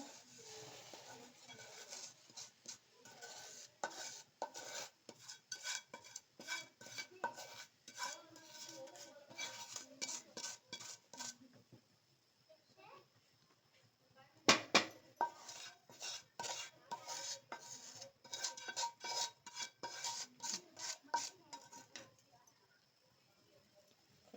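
A spoon scraping and clinking steadily against a pot as semolina (rava) is stirred into boiling water for sajjige, a rhythmic run of metallic taps with a short pause midway.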